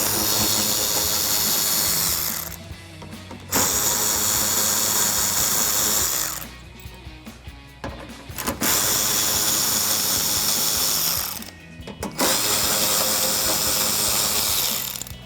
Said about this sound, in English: I'm going to use my 8mm socket to remove some of the screws here on the inner wheel well